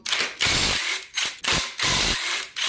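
Socket ratchet removing side bolts from a junkyard LS engine during teardown, several quick bursts of close, loud ratcheting clicks separated by short pauses.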